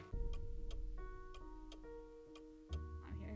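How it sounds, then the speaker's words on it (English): Several clocks tick in the video game Nancy Drew: Message in a Haunted House, with a steady regular tick-tock over a low hum, and a heavier thud near the end. "hearing a lot of clocks right now."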